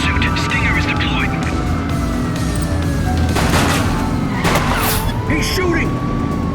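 A suspect fires shots during a police pursuit in The Precinct, with a few sharp bangs cutting through dense car engine and siren noise, while voices talk over the chase.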